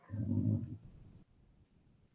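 Dogs bark in a loud burst at first, then the noise drops to a faint muffled rumble.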